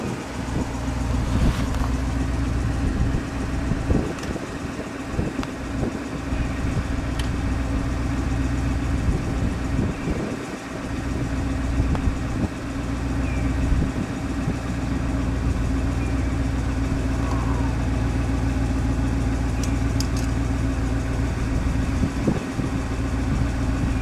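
The engine of a 1967 Oldsmobile 98 convertible idles steadily in a low, constant rumble while the top is lowered. Faint mechanical clicks and thumps sound over it.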